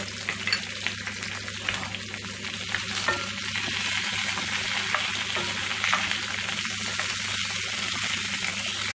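Onions and garlic frying in a pan alongside roasting lamb shank pieces, a loud continuous sizzle with stirring scrapes throughout.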